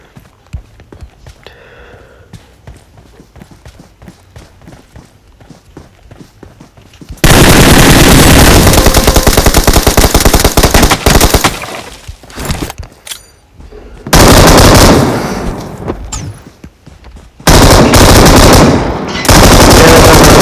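Video game machine gun fire in long, loud sustained bursts with brief gaps, preceded by quieter footsteps and movement.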